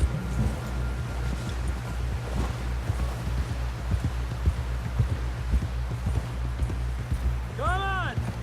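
Horse hooves clip-clop at a steady gallop in the Red Dead Redemption 2 video game, with rhythmic thuds over a low rumble of wind and background score, while characters talk over them.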